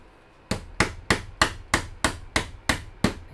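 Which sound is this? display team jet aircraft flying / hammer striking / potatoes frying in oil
hammer striking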